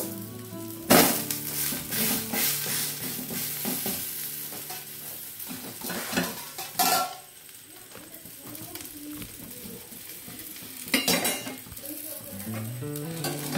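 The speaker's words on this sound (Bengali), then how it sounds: "এটাও হয়ে গেছে, উল্টে দেব।" An oats omelette frying in oil in a pan gives a continuous sizzle after being flipped, with spatula scrapes and knocks against the pan at intervals and a brief voice under the cooking noise.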